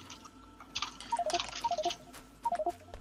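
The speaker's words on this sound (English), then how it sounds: "It was my Facebook Messenger. My phone sounds are way too loud" A Facebook Messenger notification on a phone plays as short bursts of bright electronic chimes and beeps in quick rhythmic clusters, fairly loud against a faint background hum, with no talking.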